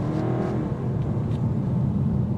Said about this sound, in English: I'm gonna mash on the gas in comfort.